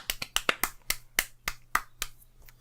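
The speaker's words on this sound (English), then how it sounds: "Let's clap it out for him." Someone claps out for a person on a podcast, a quick run of about a dozen sharp, close hand claps, fast at first and then slowing, over a faint steady hum.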